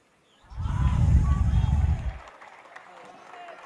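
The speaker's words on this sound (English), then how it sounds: "Now the crowd and the bench starting to cheer every small call that goes their way" Crowd and bench cheering at an I-League 3 football match in Goa, Dalbir Football Academy against Sesa Football Academy: a loud swell of cheering and clapping that rises quickly, holds for a second or so, then drops to a low murmur.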